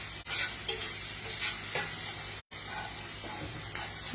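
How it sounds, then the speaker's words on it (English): Onions fry and sizzle in a pan with steady hiss and occasional stirring scrapes, close and continuous, broken by one momentary dropout. "You want that onion to cook until it becomes translucent."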